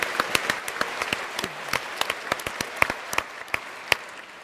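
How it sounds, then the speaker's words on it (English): An audience at a science debate on the origins of the universe gives a round of applause, a loose scattering of distinct hand claps with no talking. "And so you all deserve a round of applause"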